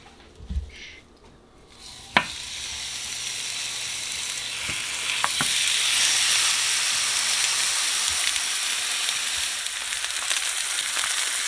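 Beef and lamb dropped into a pan with olive oil, a couple of clacks as they go in before a loud, broad sizzle swells up and hisses steadily for several seconds.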